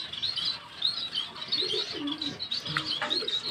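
Pet pigeons kept at home murmur in low, soft coos beneath brighter chirps and occasional fluttering, several birds close by, fairly quiet and continuous.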